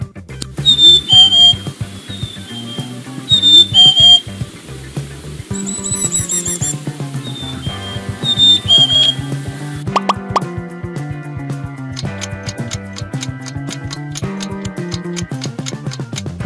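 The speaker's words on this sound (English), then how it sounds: "Correct answer, black-capped chickadee." A black-capped chickadee gives its call as a few repeated clear, high whistled notes in short bursts, set over plucky, steady background music.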